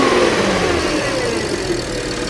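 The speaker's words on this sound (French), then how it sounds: "Je vais demander tout de suite au propriétaire de faire une petite accélération." An Audi Q5 3.2 FSI V6 24V quattro with an S tronic gearbox is revved once, loud and close. The engine surges at the start, then its pitch sags back down as it settles toward idle.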